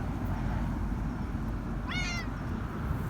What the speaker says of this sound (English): And you've got the cutest meow ever.